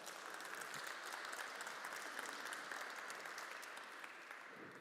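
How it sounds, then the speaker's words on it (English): An audience applauding at a manufacturing open house, a dense, even wash of many hands clapping for several seconds, fairly distant and steady before gently easing off. "You can all clap now, it's fine."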